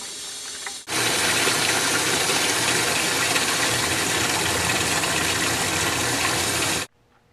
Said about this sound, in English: flush that heater out with fresh cold water coming from the water supply